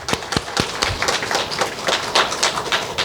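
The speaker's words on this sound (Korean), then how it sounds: "우리 박수로 우리 환영하도록 하겠습니다" A church congregation at a Sunday service in Seoul claps in welcome for a young couple: a close, dense patter of hand claps carrying steadily through the whole moment with no speech over it.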